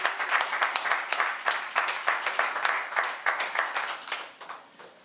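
A congregation applauds at a church service, steady crowd clapping that fills the space for several seconds and then thins and fades toward the end, with no talk over it.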